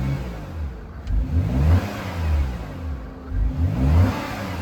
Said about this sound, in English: There it is, silky smooth V6, as you would expect.